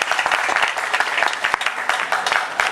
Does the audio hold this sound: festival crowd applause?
yes